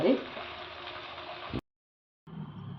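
Local chicken meat sizzles and bubbles steadily in a pan, a loud continuous frying hiss that cuts off abruptly, then resumes more quietly after a short silence.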